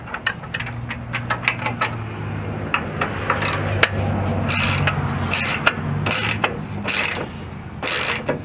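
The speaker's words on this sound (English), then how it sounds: "Okay, one more final tighten on this bolt." A ratchet clicks in quick, uneven bursts as a bolt gets a final tightening on a Jeep Wrangler fender during a flat fender install, close and fairly loud over a low steady hum.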